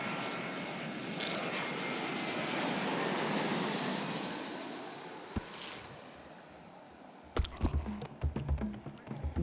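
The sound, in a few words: airplane in flight after takeoff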